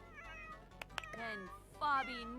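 Several cats meow repeatedly in a Sims household, rising and falling calls overlapping one another at close range, with a couple of sharp clicks between them.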